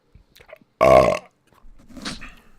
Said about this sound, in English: Always with that pre-podcast burp because we can't go belchless.